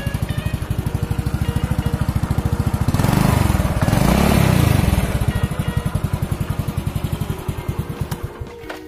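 A 1992 Honda Astrea motorcycle engine idles with a steady, rapid putter, briefly revving louder in the middle before settling back to a smooth idle.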